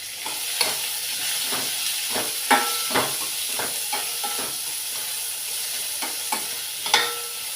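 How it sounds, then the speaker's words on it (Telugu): Three sliced onions fry in hot oil for a ridge gourd and moong dal curry, giving a continuous hiss and sizzle punctuated by irregular scraping knocks of a stirring spoon, close and alone without speech. "వాటిని వేసేస్తాను ఇవి బ్రౌన్ కలర్ వచ్చినంత వరకు వేయించుకోవాలి"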